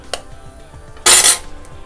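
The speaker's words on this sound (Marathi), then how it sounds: "त्याचं अंडी कसं असं फोडायचं" An egg cracked into a pot of simmering egg curry in a home kitchen: a brief, sharp crack and splatter standing out loudly against faint background clatter, with no talking.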